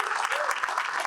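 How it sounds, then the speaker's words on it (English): A crowd at a charity toy drive launch claps together, a short, dense burst of applause at moderate loudness. "So let's give them a round of applause"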